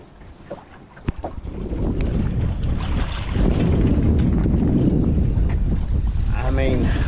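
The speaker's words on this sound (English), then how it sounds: "That wind keeps ripping through here" Strong wind gusts across an anchored fishing boat on the Tennessee River, a loud rushing roar that builds after a few seconds and buffets the microphone while someone talks.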